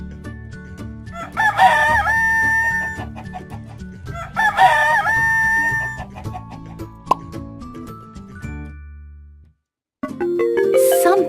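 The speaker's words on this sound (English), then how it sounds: "Rooster." Rooster crowing twice in a children's animal-sounds learning compilation, two loud drawn-out cock-a-doodle-doos over light background music, followed by a brief pause and a chiming jingle.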